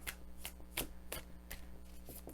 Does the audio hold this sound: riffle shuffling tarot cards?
yes